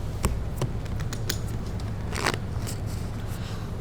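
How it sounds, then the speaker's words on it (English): At a live poker game, a dealer shuffles playing cards with a sequence of crisp riffling clicks and snaps that peak in a dense burst midway, close and fairly loud, with no voices. "shuffles those cards so delicately"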